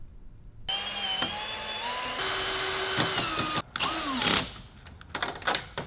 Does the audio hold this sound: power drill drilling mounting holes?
yes